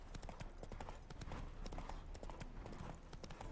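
Horse hooves clip-clop in The Witcher 3, a quick, steady run of distinct hoofbeats continuing throughout, faint and without pause, with no talk over them.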